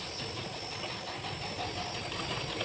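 A sewing machine stitches a strip of buckram for a handmade bag, giving a steady, continuous mechanical whir at an even pace with no voices.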